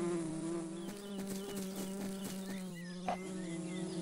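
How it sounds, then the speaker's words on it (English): Honeybees drone at a beehive in the hollow of a tree in a cartoon, a steady layered buzz over a continuous musical bed, with no talk. "We found the beehive of the honeybee."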